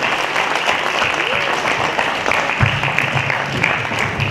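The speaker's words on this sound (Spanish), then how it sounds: "vamos a darle un fuerte aplauso para que él se motive" Strong audience applause greets a speaker at a communication skills seminar, a thick continuous wash of clapping throughout, with a voice faintly present underneath.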